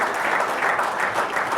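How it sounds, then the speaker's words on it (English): Applause in a room for Aaron Shearer, a steady wash of many hands clapping close by, even in level throughout with no voices over it. "Round of applause, Aaron Shearer."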